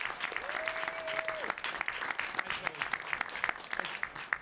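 Steady audience applause at a university board of trustees meeting, honoring an interim vice chancellor for student affairs; dense, even clapping continues throughout at moderate loudness, with a faint voice underneath.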